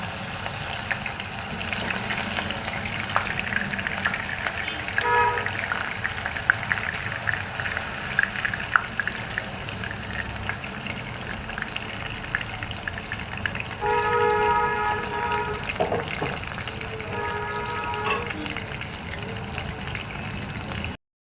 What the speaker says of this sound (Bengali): আসুন আমরা প্রথমে বেগুনটাকে ভেজে নিই